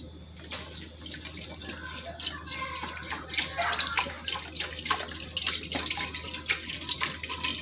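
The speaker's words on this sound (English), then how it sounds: "I got my beef broth that I'm gonna pour into the pot to, for the meat to boil in" Beef broth poured into a cooking pot for stew, a steady splashing liquid stream that builds in loudness over several seconds while someone talks nearby.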